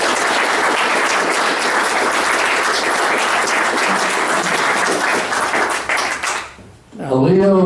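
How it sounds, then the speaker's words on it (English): A dense, loud wave of audience applause fills a D-Day 75th anniversary program, sustained and even before fading out abruptly, after which a voice begins speaking. "So please give him a round of applause."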